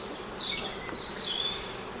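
Honeybees in an opened hive during a spring inspection hum in a thin, wavering, agitated buzz, fairly faint and close, rising and falling over a couple of seconds.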